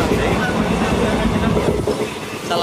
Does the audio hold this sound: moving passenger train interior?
yes